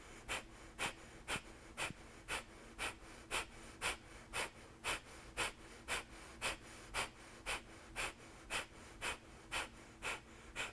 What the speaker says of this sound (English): keep snapping the belly back, force the exhale out